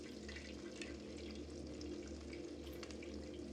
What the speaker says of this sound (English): you know the oil's ready when you dip the chicken in. It sizzles.